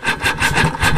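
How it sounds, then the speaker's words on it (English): Electric starter on a barn-find Suzuki GT550 two-stroke triple, not started in ten years, clunking as it turns over: a loud, close, rhythmic churning with repeated heavy knocks over about a second. "That sound is not good when I use the electric start."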